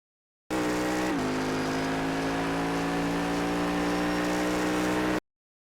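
A Cadillac CTS-V runs flat out on the Road Atlanta race track, its engine a loud, sustained roar with a quick shift or rev change early on, then a steady high-revving drone until it cuts off.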